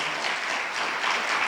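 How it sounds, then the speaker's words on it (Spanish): A church congregation claps in a steady, dense burst of applause, filling the short moment on its own without talk. "¿Qué te parece si damos un fuerte aplauso, queridos hermanos, a los que nos ven?"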